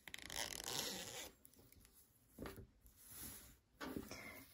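A zipper sewn into a handmade crochet bag is pulled back and forth in short, close strokes, a soft rasping run followed by a few quieter zips and handling sounds.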